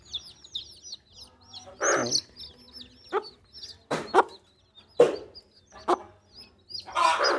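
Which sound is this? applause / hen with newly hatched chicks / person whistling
hen with newly hatched chicks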